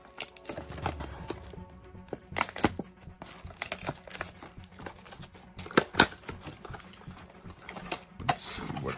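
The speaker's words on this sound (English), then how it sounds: "So let's now go ahead and rip into the boxes that I got and see which of these I pulled." Cardboard and foil packs of 2019 Hoops basketball trading card blaster boxes get torn open nearby, giving irregular sharp rips, crinkles and handling clicks with quiet gaps between bursts.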